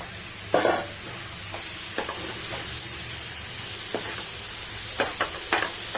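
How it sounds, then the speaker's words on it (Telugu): Cleaned prawns are stirred into chili masala frying in oil, a soft steady sizzle with a few close scrapes and clacks of a spoon in the pan, and no voices. "కొంచెం బయటకు వచ్చే వరకు ఫ్రై చేసుకొని ఇందులోకి మనము క్లీన్ చేసి పెట్టుకున్న ప్రాన్స్ కూడా వేసేసుకొని కలుపుకోవాలి"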